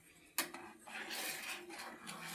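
A utensil scrapes and rubs through a thickening milk powder mixture for palkova in a pot, opening with a sharp knock against the metal, then soft repeated stirring strokes nearby.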